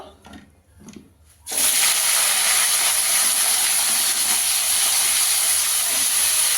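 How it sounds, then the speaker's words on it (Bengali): Green beans and other vegetables hitting hot oil in a pan, a loud steady hiss and crackle that bursts in after a quieter opening second and keeps going strongly. "এবার সব সবজিগুলোকে ভেজে নেব। আগে শিমটা দিয়ে দেবো"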